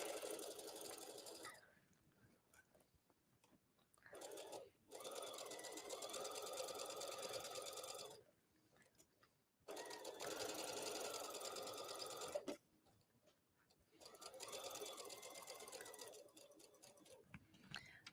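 A sewing machine stitches a cardigan seam in steady running bursts, several stretches of rapid, even whirring separated by short pauses, close and clear with no talking.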